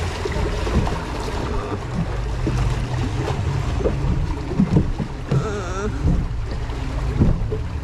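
A small rowing boat carrying several people moves across open water in Krakow, riding low at the front under uneven weight, with steady splashing and wind rumble throughout and occasional knocks against the hull.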